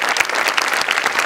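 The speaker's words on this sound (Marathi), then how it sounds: "जोरदार टाळ्या तिघांसाठी." A studio audience at the Maharashtrachi Hasyajatra comedy show applauds three performers with dense, steady clapping, loud and continuous throughout the short moment.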